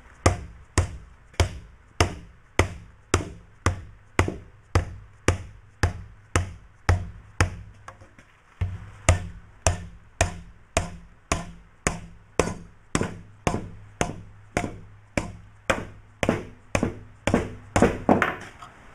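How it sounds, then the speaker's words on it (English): A dead blow hammer shapes sheet-metal Willys CJ3B Jeep side panels over a hammer form: steady, evenly spaced blows, dull and solid, about twice a second throughout, with a faint low hum underneath. "So I'm just going to bring it down easy with this dead blow hammer."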